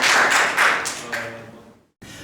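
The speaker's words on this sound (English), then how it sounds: "Round of applause for Ben and Jerry." A round of applause from a game show audience, a dense burst of clapping that swells, then tapers off and stops abruptly before a brief low resumption.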